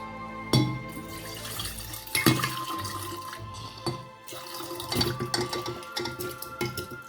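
Milk and ice cream mixture is poured into a jug, giving a splashy, gurgling stream with clinks and sloshes, near and fairly loud, rising and falling across several pours without talk.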